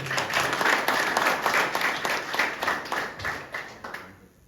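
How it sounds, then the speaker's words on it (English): An audience applauds at an arm wrestling trophy ceremony, steady dense clapping at moderate volume with a rhythmic pulse, tapering off and ending abruptly near the close. "you really deserve a huge round of applause for that"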